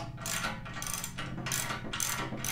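Hand ratchet snugging up a bolt on a Metalcloak rear bumper on a Ford Bronco, several quick bursts of clicking pawl strokes close by with brief pauses between.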